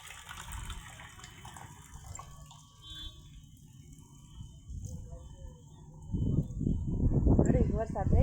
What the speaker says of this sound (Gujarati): તો આ ટાંકામાં આપણે પાણી જાય છે, અટાણે ભરાય છે.